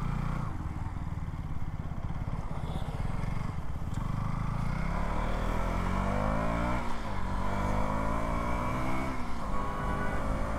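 A KTM Duke 200 motorcycle engine runs loud and close, revving under the throttle with rising and falling pitch sweeps over a steady idle rumble, with no talk.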